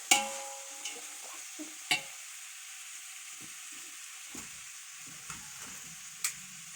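Onions frying in a pan for mutton biryani while being stirred, a soft steady sizzle punctuated by several sharp scraping clinks of a utensil against the pan at irregular intervals.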